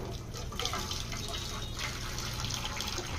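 Water pours steadily from above, giving a continuous broad splashing rush that fills the whole moment, loud and close, with no voices.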